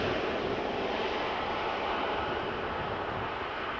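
A Vueling airliner passes at Amsterdam Schiphol airport with a brief, loud, steady jet engine roar that fades slightly toward the end, no voices over it.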